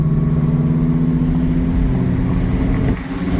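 A 2024 Genesis G70 in Sport Plus mode pulls away under steady, loud engine drone, with a brief dip near the end that suggests a firm gear shift.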